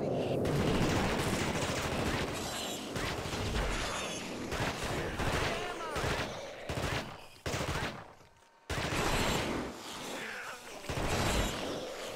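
Gunfire in a video game: dense, rapid bursts of shots stack up with brief gaps and one sharp drop into silence, loud and close throughout.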